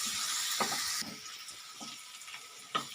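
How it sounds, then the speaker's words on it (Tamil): Onion and coconut sautéing in a pan for onion chutney: a constant bright, hissing sizzle with a few soft stirring knocks and one sharper clack near the end. "தேங்காயையும் அதிலே போட்டுடலாங்க எல்லாம் நல்லா வதங்கி வரட்டும்"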